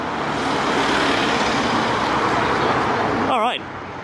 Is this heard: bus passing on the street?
yes